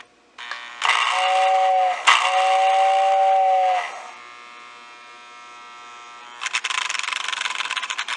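A Lionel model train's whistling tender sounds twice in long, buzzy blasts, followed by a quieter hum and then a rapid chuffing rattle of the running locomotive.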